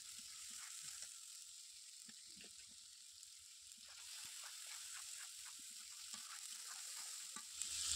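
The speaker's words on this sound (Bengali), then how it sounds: "আদা বাটা, তারপর রসুন বাটা, প্রত্যেকটা মশলা দিয়ে ভালো করে কষিয়ে নেব এখন।" Onion, green chili, ginger and garlic paste fry in a pan with a soft, steady sizzle, broken by faint ticks and scrapes of stirring; fairly quiet overall.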